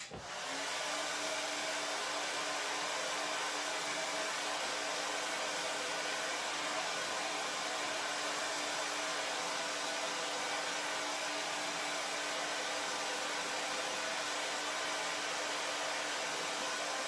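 A handheld blow dryer blasts air over a loose watercolor painting, switching on abruptly and then roaring steadily with a constant broadband hiss and faint motor hum for a long stretch, close and uninterrupted, with no talk.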